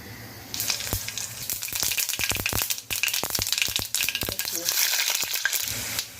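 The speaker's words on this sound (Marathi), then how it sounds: "यात फोडणी करून घेऊया आपण आधी लसणीच्या एक सात आठच पाकळ्या घालायच्या आहेत" Seven or eight garlic cloves dropped into hot oil for a tempering, bursting into loud crackling sizzle with rapid sharp pops and spatters, close and continuous for several seconds with no voices.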